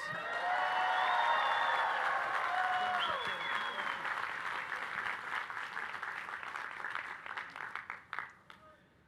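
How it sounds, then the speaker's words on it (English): Loud, sustained applause from a large college commencement audience, steady clapping that swells early and then gradually thins out toward the end. "you gotta clap really, really loud"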